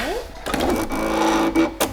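A domestic sewing machine makes a short back stitch, a brief run of rapid needle chatter with quick stops and starts while someone talks over it nearby.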